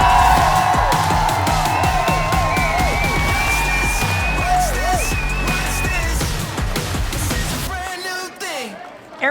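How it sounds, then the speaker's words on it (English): Studio audience cheering and clapping to welcome NFL player Arian Foster, a loud dense crowd swell with whoops and voices that holds steady, then drops away sharply near the end. "give a big boisterous applause for the one and only Arian Foster"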